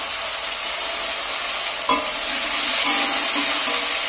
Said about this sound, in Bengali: আমি একবার নেড়ে দিচ্ছি সমস্ত কিছু